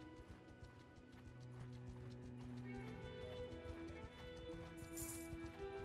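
Horses in a large livestock herd trot along in Mount & Blade II: Bannerlord, a dense, continuous patter of many hooves clip-clopping at mid distance, with no talking.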